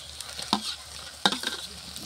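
Ginger garlic paste and tomatoes sautéing and being stirred in a pan at home, giving a soft steady sizzle with two sharper scraping stir strokes, close and alone with no talk.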